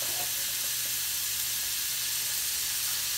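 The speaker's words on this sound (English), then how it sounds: "we're going to add about a little over a pound of ground beef" Ground beef, a little over a pound, sizzles steadily in a Power XL electric skillet set to saute, a constant close hiss with no talk over it.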